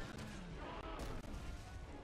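Heavy sniper gunfire in the video game Resident Evil 6, dense booming reports under a loud, saturated wash of game noise.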